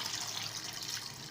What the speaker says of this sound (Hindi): अब इसमें शामिल कर दूंगी पानी